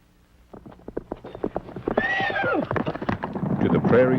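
A horse neighs and whinnies over repeated hoof clip-clops, with a brighter, louder stretch partway through; the sound is moderately close and set against light wind.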